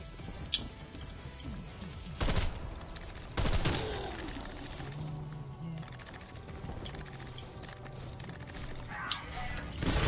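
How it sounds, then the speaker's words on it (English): Rumbling mechanical clanks and creaks of a Panzer tank in a video game, with two loud, sharp blasts early on over a steady low background din. "That's a fucking panzer."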